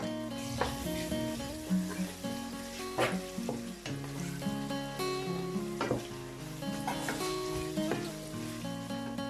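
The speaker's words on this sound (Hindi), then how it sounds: "ये लहसुन अदरक भी हमारा फ्राई हो गया।" Garlic ginger paste sizzling in a pan with sautéed onions, a soft, steady frying crackle with occasional stirring, heard faintly beneath melodic background music.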